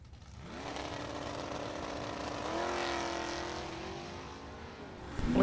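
A 1968 Mustang with a 398 engine and a Camaro drag race at a dragstrip: sustained loud, steady engine roar holding pitch, shifting once, then easing off before another blast at the end.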